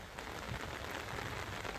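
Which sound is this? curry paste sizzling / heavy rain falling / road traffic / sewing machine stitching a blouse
heavy rain falling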